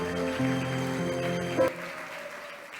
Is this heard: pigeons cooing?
no